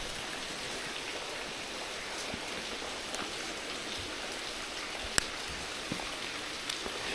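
Steady rain falls outdoors on a cold, damp day, a soft continuous hiss with occasional faint drips and taps, no voices.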